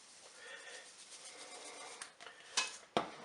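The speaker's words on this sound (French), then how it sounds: "je mélange tout ça" Lentil salad being stirred in a pot with dried garlic and parsley, a soft continuous scraping swish with a couple of sharper clinks of the spoon near the end, close and fairly quiet.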